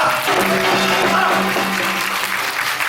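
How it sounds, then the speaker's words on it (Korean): Dense applause from a crowd at a traditional Korean pungmul performance fills the space, steady and loud throughout, with a few voices and a tonal hum faintly beneath the clapping. "좀 잘할 수 있도록 경례의 박수 한번 보내주시죠"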